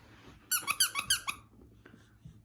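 A squeaky dog toy gives a rapid burst of about six sharp, high squeaks in close succession. It is close and loud, with faint room noise before and after and no talking.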